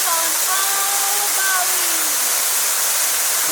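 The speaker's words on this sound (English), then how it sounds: "This is officially the best waterfall that we have ever seen." A powerful waterfall in Ubud, Bali roars as a loud, unbroken rush of water close by, with brief voices faintly audible over it in the first seconds.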